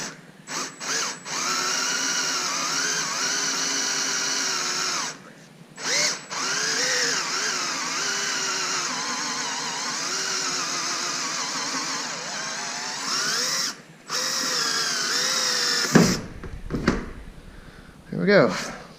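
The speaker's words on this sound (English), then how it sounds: "so we're just going to drill it out" A power drill whines steadily at high pitch for most of the clip, drilling a hole in a Polaris RZR windshield enclosure, with brief pauses as the trigger releases, ending with a clatter.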